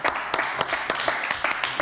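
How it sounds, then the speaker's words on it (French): Audience clapping for a contestant on a French entertainment show, a fairly faint, uneven patter of hand claps from a small crowd, with sharp individual claps standing out. "Allez, on applaudit Jennifer, bravo."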